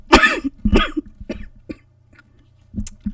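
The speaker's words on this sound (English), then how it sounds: "Alright, I need to quit coughing." Two hard, close coughs followed by smaller throaty hacks and a throat clear, then a final cough after a short pause, with no talking.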